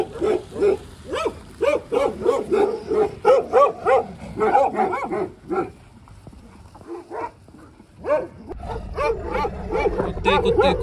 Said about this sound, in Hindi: अभी तक भौंकने दो